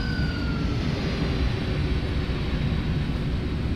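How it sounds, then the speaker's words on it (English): Airbus A310 landing in Microsoft Flight Simulator 2024 with reverse thrust engaged, a broad, steady roaring rush of engine and wind noise, loud and continuous with a faint high whine above it. "And reverse thrusting now."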